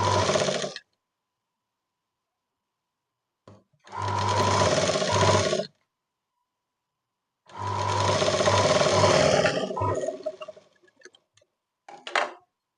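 A sewing machine stitches a blouse made without canvas in three bursts of steady whirring, the middle and longest runs loud and close, with short pauses and a brief final spurt.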